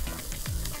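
Diced vegetables fry with a sprinkle of flour for a wine sauce to go with steak, a short close crackling sizzle with a soft stir, and no talking.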